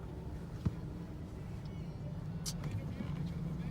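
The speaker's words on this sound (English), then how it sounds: "And now we're stuck in traffic." A car crawls through slow traffic with a low, steady engine rumble and road noise inside the cabin, broken by a brief knock and a short hiss, and no talk is heard.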